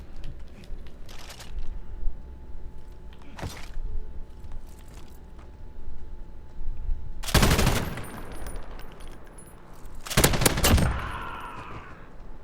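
A PKM machine gun set on its bipod fires in the Modern Warfare video game, with two sharp loud bursts standing out over quiet game ambience, faint clicks and shuffling sounds.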